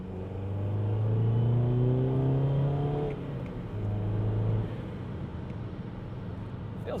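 BMW 320d with a 2.0-litre M47 diesel and a 330d turbo fitted, heard from inside accelerating hard through a gear on a dry, cold road, engine drone rising in pitch, a shift, another short pull, then easing off.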